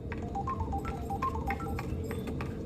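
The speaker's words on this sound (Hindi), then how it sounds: "हाँ फोन आया है।" A telephone rings in a home scene in a Hindi romantic film. Short repeated electronic tones run under a low, steady background.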